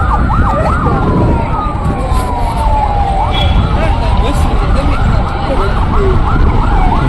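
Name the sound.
ambulance siren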